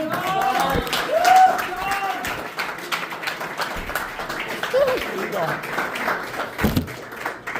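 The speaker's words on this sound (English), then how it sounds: "Please keep your applause going for our headliner for this evening, Mr. John Stunner." Applause for a headlining comedian at a brewery comedy night, scattered clapping from a modest crowd mixed with cheers and voices, rising early then continuing unevenly.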